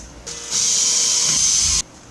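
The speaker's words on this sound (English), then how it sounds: "and you can then drill them into place." A power drill driving screws whirs steadily for just over a second, its high-pitched motor spinning up and cutting off abruptly, with no one speaking.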